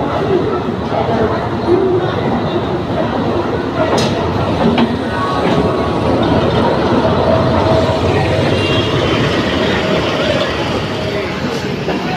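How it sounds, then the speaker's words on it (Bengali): The Kulik Express train rumbles into a station with a low rolling roar and faint clatter, while people chatter on the platform around it. "আমাদের ট্রেন প্ল্যাটফর্মে ঢুকে পড়েছে"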